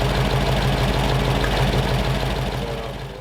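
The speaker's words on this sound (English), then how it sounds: "that was a semi-successful run with this engine" A used Ford flathead engine bought at the Carlisle swap meet runs close by with a loud, steady, slightly knocking rumble, then begins to wind down toward the end.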